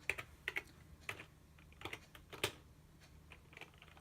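Quiet, irregular keystrokes on a computer keyboard, clicking in short bursts and single taps at close range while a script is run on a Raspberry Pi.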